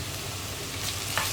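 Onion, ginger and garlic sizzle loudly and steadily while frying in a steel pressure cooker, and a single quick stirring scrape comes near the end.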